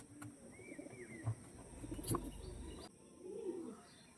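Andhra pigeons, a female among them, coo softly in low rolling murmurs, with a few faint bird chirps scattered through a quiet loft setting.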